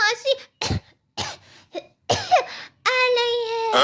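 A cartoon child coughs in several short bursts between stretches of child-voiced cartoon speech, close and fairly loud.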